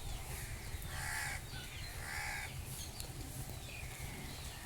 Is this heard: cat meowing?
no